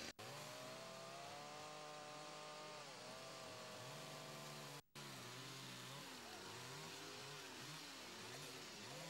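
Chainsaws roar at a chainsaw carving competition as carvers work wood, the engines revving up and down in loud, overlapping waves with a brief break midway.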